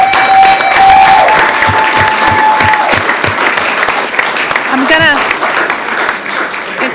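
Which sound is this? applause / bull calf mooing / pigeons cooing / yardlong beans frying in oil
applause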